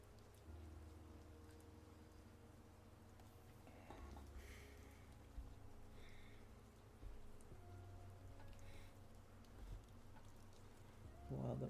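Quiet rain ambience plays during a drawing stream, with soft pattering drops and a low steady hum, plus a few faint scattered clicks.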